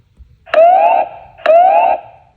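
Siren from a Wansview B7 home security camera: two identical short bursts, each a rising electronic wail about half a second long, loud and close, separated by a brief pause.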